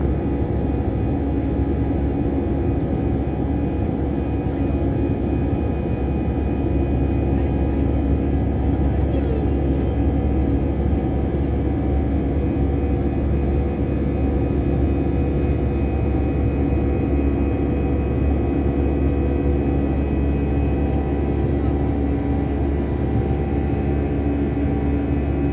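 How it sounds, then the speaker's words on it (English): An easyJet Airbus A320 jet on its takeoff run from London Luton airport, a loud, unbroken engine roar with heavy low rumble heard from inside the cabin, steady throughout. "quick takeoff."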